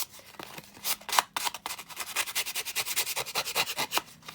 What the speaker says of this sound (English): I'm being quite kind of vigorous with my sanding